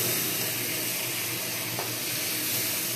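Food frying in a little oil in a pan makes a constant, close, even sizzle with a faint stir partway through, and no voices.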